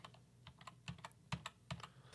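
A computer keyboard is tapped in quick, uneven clicks, with several louder key presses standing out among lighter taps in a quiet room and no talking.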